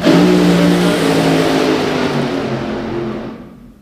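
A Nitro Funny Car tears down the drag strip on a hard-charging run, its roaring, high-pitched engine loud up close and then fading steadily into the distance.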